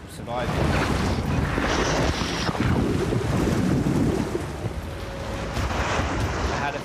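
Strong wind buffets the microphone during kitesurfing, with waves and surf washing around the rider; loud, continuous gusting roar with rushing water throughout.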